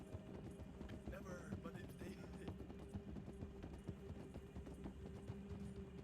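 Steady galloping hoofbeats of a horse running in Red Dead WildRP roleplay, a continuous rhythmic clip-clop at moderate distance, with someone talking over it.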